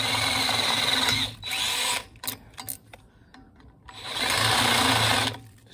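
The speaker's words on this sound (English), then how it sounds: "start to take the burr off" A power tool grinds the burr off a large metal pin with a 9mm hole inside a van. It runs in two loud sustained bursts, with a pause of small clicks and knocks between them.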